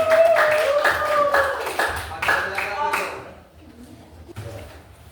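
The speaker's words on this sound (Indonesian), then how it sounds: "Tepuk tangan terlebih dahulu." Classroom students clap their hands together in a burst of sharp, rapid claps lasting about three seconds, then stop, leaving a quiet room with faint voices.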